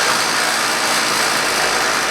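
A Strike Master ice auger's gas engine runs at a steady idle just after a carburetor replacement, a loud, continuous rough drone with no pauses throughout.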